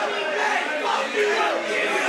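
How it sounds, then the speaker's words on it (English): Wrestling crowd at a live event jeering and voicing displeasure, a dense wash of voices and chatter sustained for a couple of seconds with no clear single speaker. "The crowd not liking it at all."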